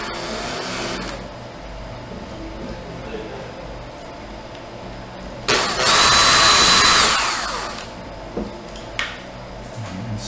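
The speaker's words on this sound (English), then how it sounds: "and then just drill it out" A power drill bores a hole in the base of a 3D printer built from recycled electronic waste, a loud whirring burst of about two seconds that winds down, set among quieter workshop noise.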